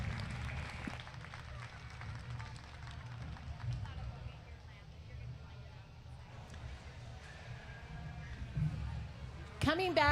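Steady, soft applause from an audience at a market lamb show, a continuous wash of clapping mixed with low crowd murmur throughout.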